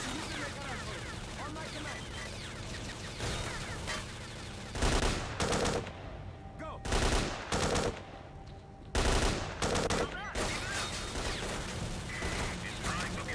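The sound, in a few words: machine gun fire in a video game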